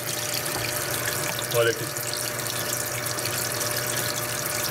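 Water splashing and spraying inside the cabinet of a Brastemp 16 kg washing machine (BWK16AB), a continuous close wash of running water with a brief voice over it.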